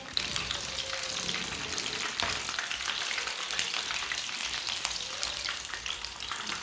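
Chicken leg pieces frying in hot oil make a steady, dense crackling hiss that runs the whole time with small spits and pops, close and moderately loud.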